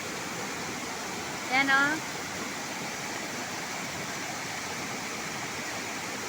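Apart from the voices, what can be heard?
waterfall at Kawali Falls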